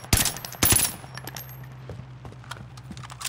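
Gunfire in Call of Duty: Warzone Pacific on the Caldera Resurgence map: two loud sharp shot bursts close together, followed by scattered fainter clicks and pops.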